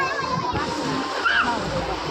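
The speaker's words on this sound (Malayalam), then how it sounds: "വെള്ളം നോക്ക്, മക്കൾ വെള്ളത്തിൽ കളിക്കുന്നത്." Children splash and play in water at a park, a continuous wash of sloshing and splattering heard at moderate distance, with voices and chatter mixed in over it.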